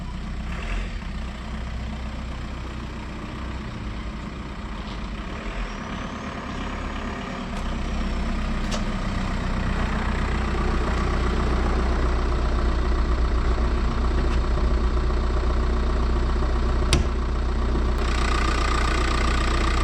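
A 2DI golf cart is driven back into a garage, its engine humming steadily and growing slightly louder midway, with a few faint clicks and no talk.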